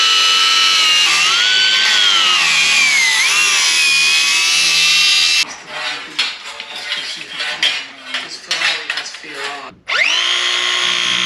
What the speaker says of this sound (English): the best drill you'll have for coring saw pipe out, flues out, waste holes like this out.